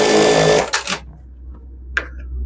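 Sewing machine stitching a trouser pocket, a steady loud whirring run that stops after about a second, followed by a brief clack of the mechanism.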